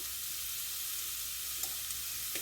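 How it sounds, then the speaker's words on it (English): Garlic sizzles in hot oil in a pan while making a simple curry, a steady broad frying hiss throughout with a couple of faint clicks near the end. "I'm going to put some garlic in."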